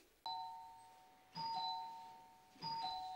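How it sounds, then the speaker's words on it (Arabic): A doorbell chimes three times in a row at steady intervals, each a bright two-tone ding-dong ringing out and fading, clear and alone in a quiet room. "حاجة تدقي على الجرس شيطة حرقتي لهم اياه"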